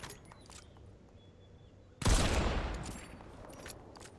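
After a quiet stretch, a sudden loud burst of Fortnite video game gunfire erupts, a sharp blast followed by a rumbling, fading barrage.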